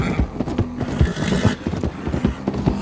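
A horse gallops in a Western cowboy video game, rapid rhythmic hoofbeats pounding close and loud throughout amid gameplay sounds, with no talk.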